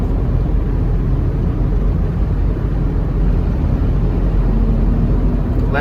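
A 1997 Ford Expedition Eddie Bauer Edition cruising on a highway at night, heard as a loud, steady low road-and-engine rumble with constant tire noise from inside the cabin.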